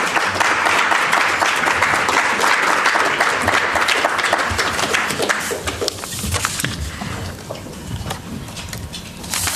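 Conference audience applause at an agricultural policy event, dense sustained clapping from a large crowd that fills the room steadily, easing slightly in the second half before rising again, loud and close with no speech over it.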